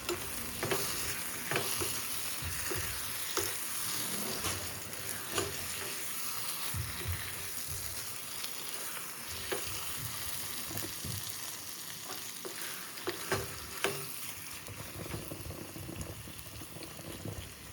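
Half-fried brinjals sizzle and bubble steadily in a pan as they are stirred, a continuous close frying hiss with occasional clinks and scrapes of the spoon, no talk.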